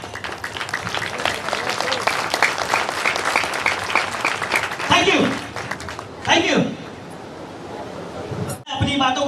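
Dense applause from a large crowd at a live stage event, steady and loud for several seconds before breaking off into brief scattered claps, with a short lull and a final burst near the end.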